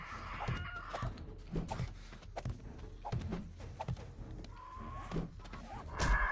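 Chicken clucking in the survival game 7 Days To Die, a series of short, fairly quiet clucks and squawks repeating irregularly amid faint game ambience.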